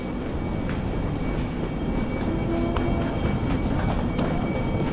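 A train travelling between Luxembourg and Brussels gives off a steady interior rumble with a constant rolling drone and faint clatter. The sound stays even and continuous with no talk.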